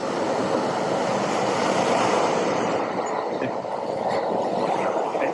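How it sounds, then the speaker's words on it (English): Loud, steady ocean surf played back as a background recording, a continuous broadband wash of waves with no talk over it. "I think if the ocean was that loud, I would be standing in the waves."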